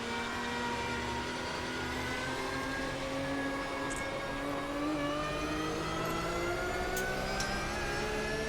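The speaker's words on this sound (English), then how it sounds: "Start the engine." A race car engine in Automobilista 2 hums and revs steadily, a sustained tonal drone with rising harmonics and slight throttle swells, loud and alone with no voices.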